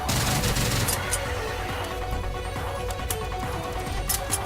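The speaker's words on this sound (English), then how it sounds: "We see a stalker run in, which start shooting some volleys at me." An enemy stalker in the video game STRAFE fires volleys of gunfire in rapid repeated bursts, layered over dense game sound effects and music at a steady, loud level.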